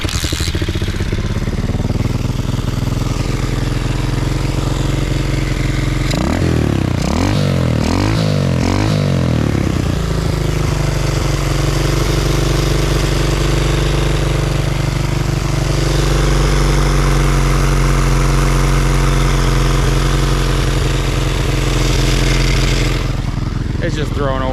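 A motorcycle engine running rough and smoking, throwing oil, a loud steady droning idle close up with a stretch of revving pitch swings partway through, a voice talking over it.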